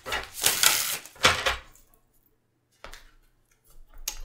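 Tarot cards being shuffled, two quick riffling bursts close by, then a pause and a shorter, quieter rustle of the deck.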